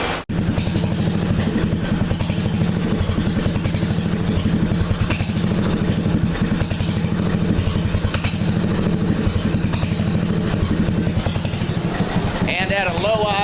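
A motorcycle engine idling low with no muffler, a loud, steady, rapid pulsing putter that runs throughout, with a short burst of higher-pitched noise near the end.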